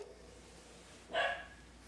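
A startled dog lets out a single sharp, fairly faint bark, brief and a little distant, over quiet room background.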